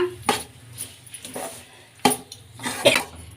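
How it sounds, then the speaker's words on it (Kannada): Millet flour upma with greens being mixed in a pan, giving a few sharp clinks and scrapes of a spoon against metal, spaced irregularly over a quiet background. "ಈಗ ಎಲ್ಲ ಚೆನ್ನಾಗಿ ಮಿಕ್ಸ್ ಮಾಡ್ಕೊಳ್ಳೋಣ"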